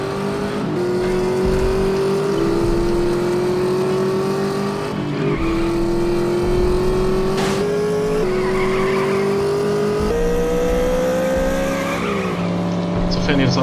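Beta Romeo race car in the game The Saboteur, its engine whining loudly through repeated upshifts as it accelerates, with tire squeals and skids, continuous and close.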